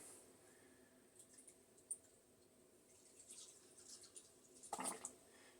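Spirulina and purified water mixture squirted into a large sea monkey aquarium, a quiet wet hiss with small drips building to a louder splashing burst near the end.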